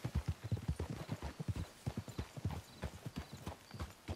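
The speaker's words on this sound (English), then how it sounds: "Let's leave the horses off the road to the right here." Horse hooves clip-clop in a steady, loping rhythm in Red Dead Redemption 2, several horses moving together at close range with a faint whinny, the beats fairly quiet but distinct.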